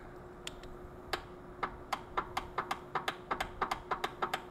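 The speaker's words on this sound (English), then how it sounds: "Getting a whole lot of clicking and not a lot of cranking." A 1977 International Cub Cadet tractor's starter motor clicks repeatedly without cranking, a quickening series of sharp, close clicks over a steady low electrical hum with no engine turnover.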